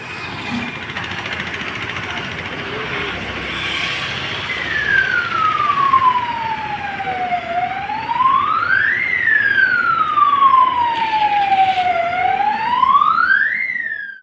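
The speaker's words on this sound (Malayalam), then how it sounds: "പണം എടുത്തുകൊണ്ടിരിക്കുമ്പോൾ സുരക്ഷാ അലാറം അടിക്കുന്നത് ഇടപാടുകാരെ ഭയപ്പെടുത്തുന്നു" A loud electronic siren wails up and down in slow sweeps, steady and insistent over a constant background hum, from a State Bank ATM security alarm in Edoor.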